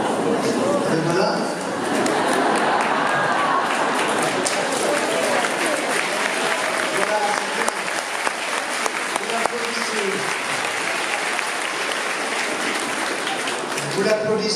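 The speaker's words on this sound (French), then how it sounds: "Vous l'applaudissez" Audience members at a conference during an organic products fair applaud at length, a full, steady crowd clapping with faint voices underneath.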